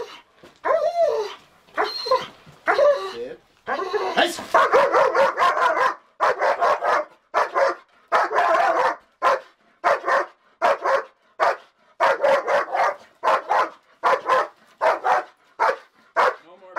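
Shield puppies bark in rapid, loud bursts during protection training, with yips and whimpers between the barks. The barking is close and repeated almost continuously, and people talk around it.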